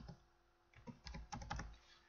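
Quiet clicks of typing on a computer keyboard, a few scattered keystrokes followed by a quicker burst of taps, close and with no voices.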